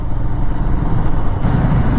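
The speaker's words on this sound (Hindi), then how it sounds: "साउंड सुनिएगा आप गाड़ियों के" Steady, heavy traffic roar echoes inside the Barok tunnel on an Indian national highway, with cars and trucks rumbling past continuously and no talking.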